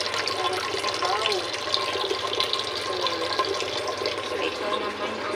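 Water pours steadily from a tap into a pot for pork bone soup broth in a home kitchen, a constant close rushing stream with no break throughout.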